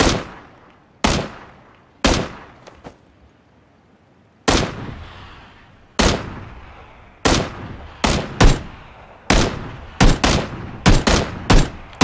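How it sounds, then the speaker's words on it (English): Gunfire in a video game shooter: about a dozen sharp, loud shots, some single and some in quick pairs and short bursts, each with a fading tail, spaced by brief gaps and no talk. "I'm shooting them right now"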